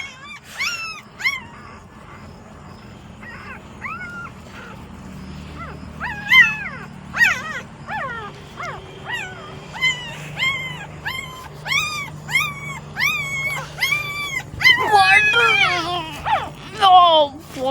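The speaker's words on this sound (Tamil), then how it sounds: "இந்த குட்டி கத்துச்சுங்களா?" Several puppies cry and whimper in high, rising squeals, close and overlapping, growing busier and louder toward the end, with faint low background rumble and occasional voices.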